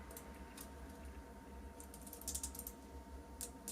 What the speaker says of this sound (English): Now the Citizen has a 60 click unidirectional bezel.